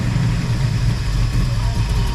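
A Corvette restomod with a big cam idles nearby, giving a steady, loud, low rumble with a slightly lumpy pulse and no speech over it.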